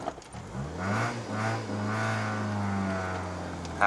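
A Toyota Corolla AE92 with a 4A-GE 16V Red Top engine pulls away on a rainy day, its engine note rising steadily from inside the cabin as the revs climb, moderately loud and smooth.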